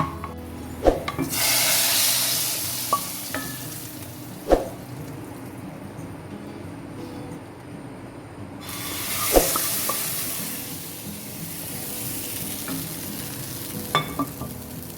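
Red garlic tempering sizzles and crackles as it is stirred into spinach daal in a home kitchen, a steady frying hiss with sharp clinks and clatters and a brief quieter pause midway.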